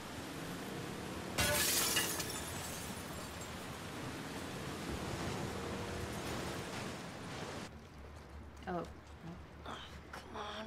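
A vehicle in The Last of Us Part II drives through glass, giving a loud sudden shatter followed by a long noisy crunching rumble, with a voice gasping and talking afterward.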